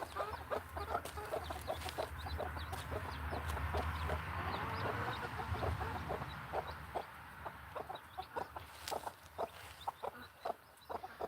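A flock of farm chickens clucks nearby, a continuous chorus of short repeated clucks and soft murmuring calls over low background rumble, with no one speaking.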